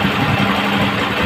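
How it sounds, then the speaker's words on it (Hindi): A Honda CG125 motorbike engine runs rough and heavy, with a loud, close, continuous rumble and an uneven knocking throb. "इसका जो साउंड है ये भारी हो गया, और ये झटके पे, ये डक डक भी करने लगी है"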